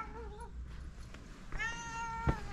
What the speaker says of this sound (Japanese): あら、さっきの猫だべか。